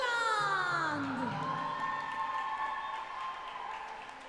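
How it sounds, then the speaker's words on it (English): A crowd at the European Aquatics Junior Artistic Swimming Championships in Malta cheers and whoops loudly, with applause mixed into the sustained roar that slowly eases over a few seconds. "Big round of applause to Great Britain."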